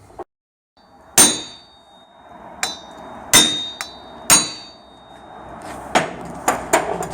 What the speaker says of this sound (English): when you get the circlip in there, you just want to tap it, just one end